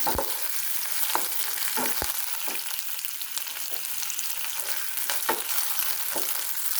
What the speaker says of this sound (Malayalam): വെളുത്തുള്ളിയാണ്. ചെറിയ ഫ്ലെയിമിലാണ് ഇട്ടിരിക്കുന്നത്.